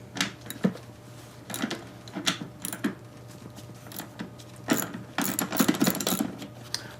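A ratchet wrench loosens a 7/16 bolt on a vintage bucket seat, giving bursts of quick metallic clicking in several separate strokes, close and moderately quiet over a low steady hum.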